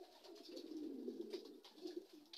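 Racing pigeons coo softly in a short run of low, throaty, rolling calls, faint and fairly close, with no talking.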